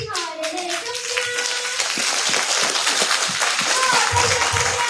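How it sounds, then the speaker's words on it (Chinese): Warm applause for the guests at a Taiwanese-language policy forum, a crowd clapping steadily and building over several seconds while a voice speaks at the start. "咱台里所有的迄个贵宾吼，热烈的掌声"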